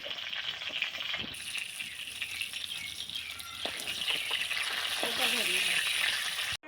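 Mirka fish frying in hot oil in a home kitchen, a steady close sizzle with occasional clinks and stirring scrapes, growing slightly louder toward the end before cutting off.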